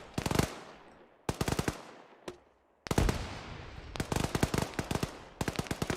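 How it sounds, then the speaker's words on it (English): Automatic weapons fire in sharp, rapid bursts during a military field exercise, several volleys separated by short pauses, each ringing out with an echoing tail across open ground. "I'm not sure what they're still firing at."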